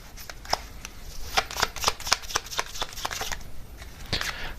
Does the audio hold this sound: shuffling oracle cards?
yes